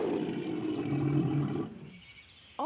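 A deep, rumbling lion roar lasts about two seconds, loud and close, then fades into quiet with faint bird chirps in the background.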